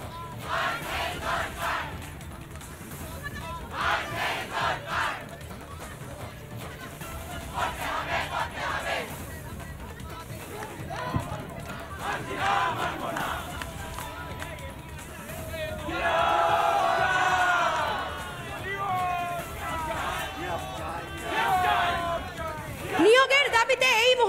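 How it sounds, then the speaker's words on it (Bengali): Job-seeking teacher candidates at a street protest chant slogans together, a loud rhythmic crowd that swells and surges over steady background hubbub, with louder bursts of chanting toward the end. "তাদের এই মুহূর্তের স্লোগান একটু শোনাবো"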